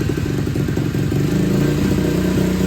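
A pit bike engine idles steadily and loudly up close, a rough, uneven chugging putter with clattery mechanical rattle, continuous throughout.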